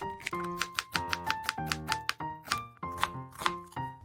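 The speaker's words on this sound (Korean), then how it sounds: "양파 1개 채 썰어주고요" A knife slices an onion into thin strips on a board in quick, steady strokes, each cut a crisp tap repeating about four times a second over a soft, steady tonal background.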